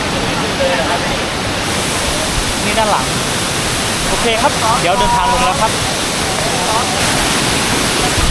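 Krok E Dok waterfall roars as a constant, loud wash of falling water heard up close, while someone speaks briefly over the rushing noise.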